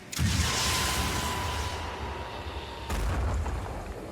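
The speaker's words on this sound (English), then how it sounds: "Let's get an explosion to strip some armor off this guy." A loud explosion in the tactical game Phoenix Point, set off to strip armor from an enemy: a sustained booming roar that rumbles on for a couple of seconds, then a second blast hits with a fresh surge.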